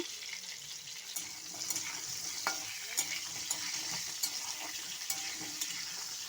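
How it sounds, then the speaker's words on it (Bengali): Potato pieces fry in oil with a quiet, continuous sizzle, broken by occasional light clicks as they are stirred in the pan. "আলুর টুকরোগুলোকে তুলে দিচ্ছি ভালো করে নুন দিয়ে ভেজে নেব"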